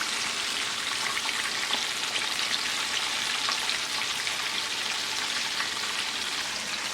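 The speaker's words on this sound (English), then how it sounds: "I'm just going to go 2 at a time and let that fry off in there." Pieces of fish frying in oil in a pan for a Caribbean curry fish dish, a steady dense sizzle with fine crackling throughout, no voices.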